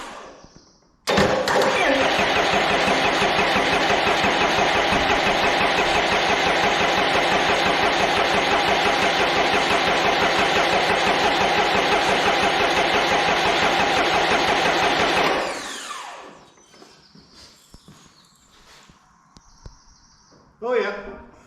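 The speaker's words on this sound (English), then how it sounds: "I just crank at her here and check that she actually makes some oil pressure" A Cummins 4BT diesel engine cranks briefly, then starts and runs at a steady, loud, rough rumble for about fourteen seconds before shutting down, leaving faint mechanical clicks and shuffling.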